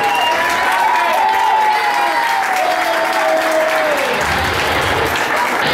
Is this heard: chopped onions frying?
no